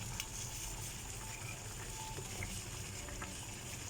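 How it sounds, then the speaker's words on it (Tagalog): Tilapia in pure coconut milk simmering in a pan, giving a soft, continuous bubbling sizzle with faint crackles and occasional small pops, heard alone. "Purong gata. Pakuluan lang natin ng konti."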